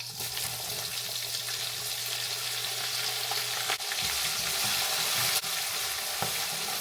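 Mustard seeds, fennel, fenugreek, onion and green chili fry in hot oil with a constant loud crackling sizzle and a couple of brief knocks.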